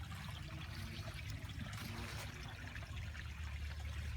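A small woodland waterfall with good water flow, heard as a soft continuous trickling and rushing stream, steady and moderately distant with no voices.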